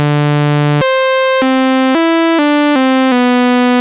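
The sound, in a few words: Korg ARP 2600 M oscillator 3 sawtooth wave through filter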